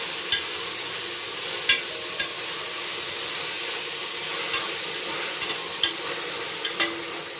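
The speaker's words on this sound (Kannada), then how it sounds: "ಇದು 2 ನಿಮಿಷ ಚೆನ್ನಾಗಿ ಎಣ್ಣೆಲೆ ಫ್ರೈ ಮಾಡಬೇಕು" Chopped fenugreek leaves frying in oil in a pan, a constant close sizzle and hiss with soft periodic scrapes and taps of a stirring spoon.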